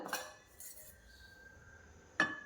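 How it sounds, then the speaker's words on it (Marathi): A metal steamer stand and vessel set into a pan of water for khaman dhokla, two short metallic clinks with a faint ringing tone between them, quiet and close. "पॅनमध्ये आपल्याला पाणी घालायचे आहे त्यानंतर अशा प्रकारे आपल्याला स्टँड ठेवायचे आहे"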